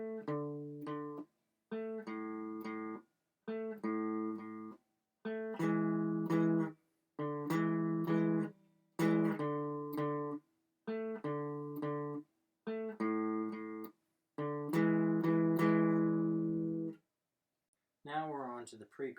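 Guitar riff from a song, played as a run of short repeated plucked note groups with clear pitch and brief gaps between phrases, close and alone.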